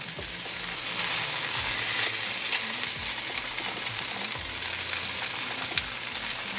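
Pollock fillets pan-frying on medium gas give a steady, close, dense sizzle and crackle with no pauses and no talking.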